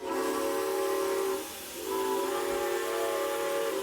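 A steam locomotive sounds a long, loud, sustained multi-tone whistle that breaks off briefly and then blows again over a rumbling rail background, with no talking.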